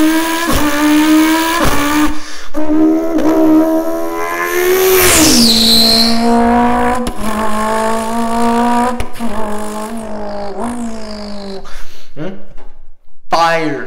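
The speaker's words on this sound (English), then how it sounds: "Let's hear that two-step." A big-turbo Mitsubishi Evo revs hard on a two-step anti-lag launch control, with loud held engine drone, popping crackles and a sharp whistle-like turbo sweep. Voices and shouting from people nearby come through over the engine.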